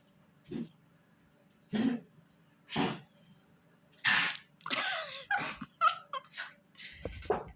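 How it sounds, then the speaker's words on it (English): An old dog coughs and hacks in a series of harsh bursts, first spaced out, then a rapid cluster of wheezy, gagging coughs close to the listener. "my dog is coughing"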